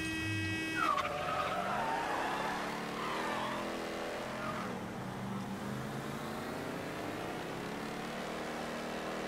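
A car skids and drives fast in the video game Mafia 3: a long tire squeal that slides and wavers over a steady engine drone, continuous and fairly close, with no talking.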